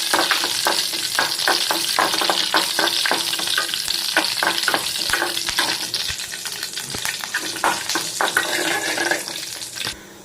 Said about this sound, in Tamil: கருவேப்பிலை போட்டு நல்லா பொரிஞ்சு வந்ததுக்கப்புறம்